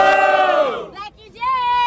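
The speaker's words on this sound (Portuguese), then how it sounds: "Diferentemente, barulho para quem gostou das imagens de Black Jay" At a street rap battle in Itaquera, a crowd roars and shouts loudly, a sustained cheer that dips briefly before swelling again.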